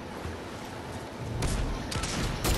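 Fortnite gunfire, a few sharp in-game shots bursting out near the end over a dull rumbling game background, loud and close.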